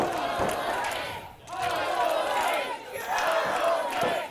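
Loud crowd at a live wrestling event roaring and shouting in surging waves, swelling, dipping briefly, then rising again, with no commentary over it.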